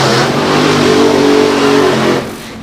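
A Top Fuel drag racing car roars at full throttle during an FIA Top Fuel drag racing event, a loud sustained engine blast lasting about two seconds before abruptly dropping away.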